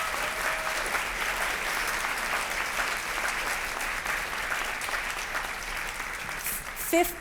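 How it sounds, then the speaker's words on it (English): Audience applause at a youth organization's 50th anniversary celebration honoring the governor and first lady, a dense sustained roar of clapping at even loudness from start to finish, with a brief bump near the end. "Let's give them a round of applause"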